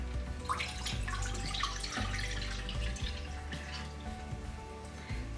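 Water poured from a vessel into urad dal and rajma lentils in a cooking pot, a steady close splashing and gurgling stream that shifts in pitch as the pot fills.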